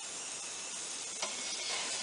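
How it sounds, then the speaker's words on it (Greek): Meat broth boils in a large pot set over the heat, giving off a steady, broadband hiss and bubbling rush that holds level throughout with no talk. "Αυτή τη στιγμή βράζουμε το ζωμό μας για να τον μειώσουμε στο μισό."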